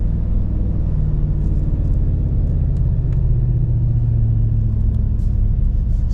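A Ford 7.3-litre gas V8 in a Tremor pickup labouring uphill while towing a heavy load, a loud, steady low engine drone and rumble with no talking.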